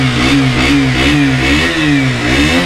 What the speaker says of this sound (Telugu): RC సౌండ్ కూడా మనం ఒకసారి విందాం